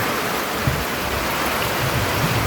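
Heavy rain and wind during a night fishing trip make a dense, constant hiss of rainfall close by, steady and loud, without any voices.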